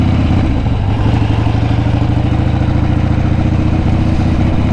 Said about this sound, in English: Try not to run into my neighbor's kid on his four-wheeler.